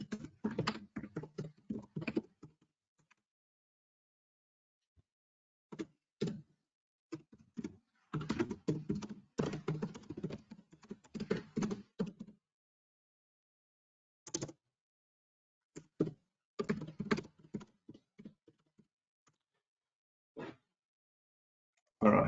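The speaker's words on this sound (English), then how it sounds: "let me just write a message for Thomas" Someone types a message on a computer keyboard, with close, crisp keystrokes in irregular bursts separated by several silent pauses.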